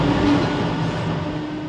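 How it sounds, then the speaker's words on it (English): A train gathers speed as it leaves the city behind, heard from on board as a loud, steady rumble and rolling roar with a faint tonal whine, continuous for the whole stretch with no voices. "The train picks up speed as we leave the final traces of urban sprawl behind us"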